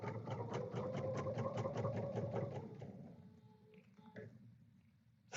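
A sewing machine stitches quilt sashing in a fast, rhythmic run of needle strokes for about three seconds, then slows and stops, followed by a few light handling clicks.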